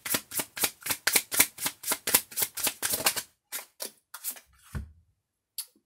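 A deck of tarot cards being shuffled by hand, close and crisp, in a fast run of about a dozen riffling bursts, then a few slower, sparser flicks and a soft tap.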